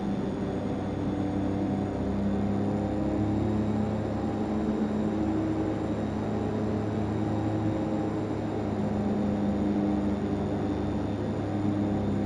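A DHC-6-300 Twin Otter turboprop engine spools up in the FSX flight simulator, a steady droning whine with rising tonal hum, continuous and loud throughout with no talking.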